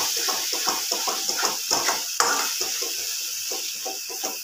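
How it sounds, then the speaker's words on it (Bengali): Paneer masala sizzles in a pan as a splash of water goes in, followed by rhythmic scraping and stirring strokes with a brief sharp clink midway, close and fairly loud. "এখানে মশলা ধোয়া বাটির জলটা একটু দেব, অল্প দেব। দিয়ে ভালো করে কষে নেব।"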